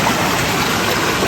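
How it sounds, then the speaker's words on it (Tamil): Water rushing at a waterfall near a temple at Puthur, a loud, steady broadband roar of falling water, close and continuous with no voices. "தண்ணி வேற பயங்கரமாக இருக்குங்க."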